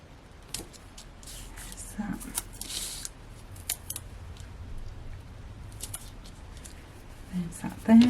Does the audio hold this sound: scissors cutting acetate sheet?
yes